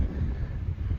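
Wind gusts buffet the microphone outdoors on a farm property, a steady low rumbling roar for about a second with no other sounds.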